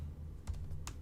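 A few quick keystrokes on a computer keyboard during a Node.js coding session, with soft scattered taps and a couple of sharper clicks close by in a quiet room.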